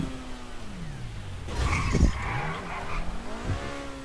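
A GTA 5 car revs its engine while its tires skid and squeal on a mega-ramp stunt course, a rising engine tone breaking into a loud burst of screeching and rumbling before easing.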